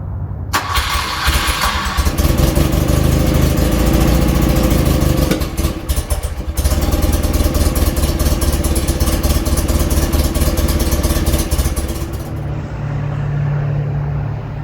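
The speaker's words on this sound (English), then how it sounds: "the bike actually starts relatively easily" A BMW R80/7 motorcycle with leaking carburetor gaskets cranks over, fires and runs at a loud, steady idle for about twelve seconds before cutting out, with no one talking.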